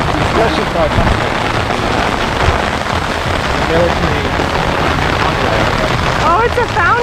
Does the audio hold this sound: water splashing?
yes